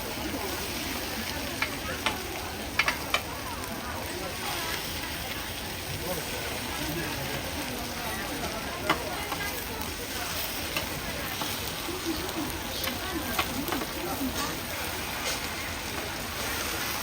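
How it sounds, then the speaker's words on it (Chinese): Potato cakes made from shredded raw potato pan-frying at a night market stall in Baotou, Inner Mongolia, giving a steady, dense sizzle of hot oil throughout with occasional faint clicks. "一面煎香，换煎另一面。"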